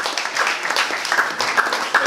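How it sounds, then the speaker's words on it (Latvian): Audience applause at a stand-up comedy show: a dense, steady patter of many hands clapping, loud and continuous with some sharper individual claps. "Aplausus!"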